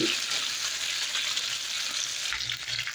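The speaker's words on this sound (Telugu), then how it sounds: "ఇవి అయిన తర్వాత కట్ చేసి పెట్టుకున్న టమాటా దీన్ని ఒకసారి కలిపి" Chopped tomatoes for tomato chutney are stirred in a frying pan, sizzling loudly and steadily up close, with a spoon scraping through them and no voices.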